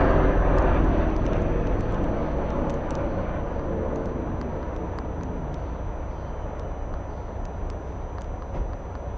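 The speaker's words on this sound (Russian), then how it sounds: "сейчас он будет пролетать, вертолет" A helicopter passes overhead, a loud broad rumble of rotor and engine noise that slowly fades as it moves away, with no talk over it.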